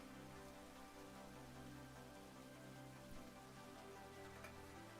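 Steady rain pours in a Minecraft world with a weather mod, coming down hard and sideways, a dense, even hiss of drops drumming on surfaces that holds constant throughout, with no voices.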